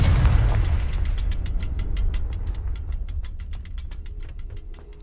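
A Confringo spell blast in Hogwarts Legacy lands as one heavy boom at the start, then decays into a rumbling tail while a run of rapid ticking crackles plays over it.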